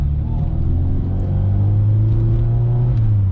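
A 1992 Ford Escort XR3 car drives along with a steady, loud low engine drone and road rumble, a smooth constant hum throughout with no talking.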